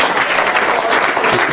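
Audience at a live magic and mentalism show gives a brief, loud burst of steady applause, dense clapping filling the room.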